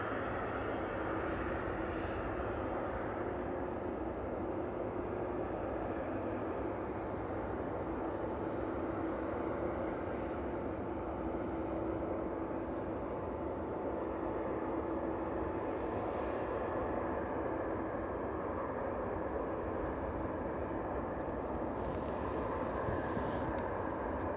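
A Boeing 757 jet airliner taxis at East Midlands Airport, a steady, continuous engine roar with a faint whine, heard at a moderate distance and unbroken throughout, with no voices.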